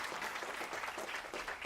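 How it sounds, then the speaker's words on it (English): Audience applause at a mayoral event launching a regional workforce initiative, a dense patter of many hands clapping at once, fairly faint and brief, with no voices over it. "give Kathleen a big round of applause."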